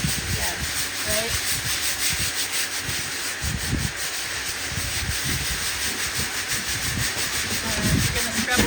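A brush scrubs a stained garage floor in steady back-and-forth strokes, a close, continuous rough rubbing with rhythmic swells over a faint hiss.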